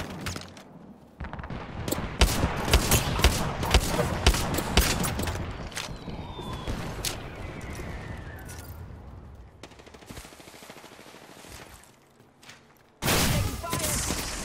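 Gunfire in a battle royale shooter game, bursts of automatic weapon fire and scattered shots that are loud and dense at first, thinning toward the middle, then a sharp loud burst near the end.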